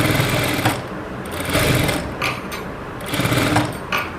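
Sewing machine running continuously while stitching piping for a blouse, a steady rapid mechanical rattle that surges and eases in short bursts, close and loud with no talking.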